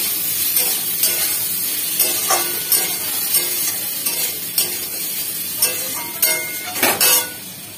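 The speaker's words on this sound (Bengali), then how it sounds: "তো টমেটোটা ভালো করে ফ্রাই হলে তারপরে মশলাগুলো দিয়ে দেবো" Tomatoes fry in a pan with a constant hiss, punctuated by light clicking taps and stirs of a utensil against the pan.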